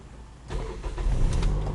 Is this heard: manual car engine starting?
yes